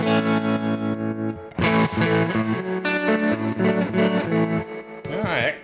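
An electric guitar plays distorted, effects-laden chords and melodic lines through a BluGuitar Blubox 212 cabinet simulation, close and loud, with sustained notes and a chiming swell at the end.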